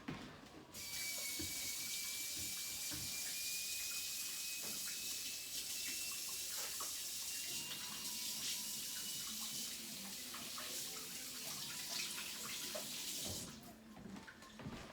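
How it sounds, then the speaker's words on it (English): Hands being washed under a running kitchen tap while preparing a roast chicken, a steady broadband rush of water flowing close and loud for about thirteen seconds before cutting off. "at this point I am gonna wash my hands"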